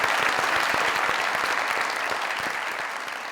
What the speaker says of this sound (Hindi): आप लोगों की ढेर सारी तालियों में आ वंडरफुल फास्ट बॉलर, यॉर्कर और बाउंसर के मास्टर मोहम्मद इरफान साहब, प्लीज।